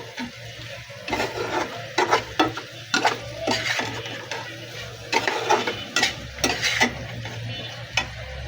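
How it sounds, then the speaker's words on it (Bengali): Fish curry with cauliflower, potato and tomato stirred in a pan, with repeated scraping spoon strokes in an uneven rhythm over a soft simmering sizzle, close and fairly loud. "এখন একটু নাড়াচাড়া করে নিলাম"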